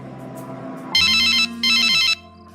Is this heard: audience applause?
no